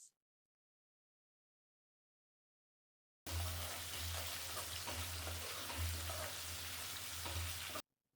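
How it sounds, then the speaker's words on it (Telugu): Tomato tempering for Nellore-style fish curry sizzles in a pan while being stirred, a loud dense frying hiss that starts abruptly after silence and runs steadily with rhythmic low stirring pulses until it cuts off. "ఇవి బాగా మగ్గేంత వరకు ఇలా కలుపుకుందామండి."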